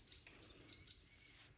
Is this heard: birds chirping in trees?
yes